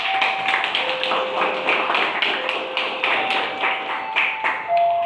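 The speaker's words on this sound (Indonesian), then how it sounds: "terima kasih tepuk tangan semuanya" Students in a high-school civics classroom clap their hands, a close run of sharp, uneven claps that fades in and out under a faint steady tone.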